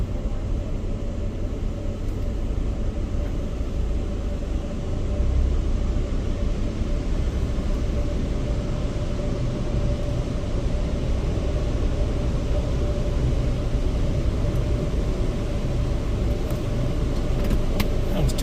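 A Laserwash 360+ automatic touchless car wash runs steadily, a loud continuous roar of spraying water and machinery heard from inside the car, with no breaks.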